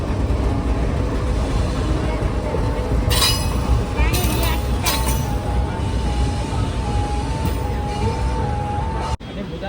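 A passenger train rolls through Shadnagar station with a constant heavy rumble, bursts of high wheel squeal, and a long sustained tone before a sudden drop near the end, with talking in the background.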